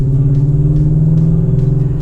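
A BMW E39 M5's engine while cruising, a steady loud low rumble with a constant drone and no revving, heard from inside the car.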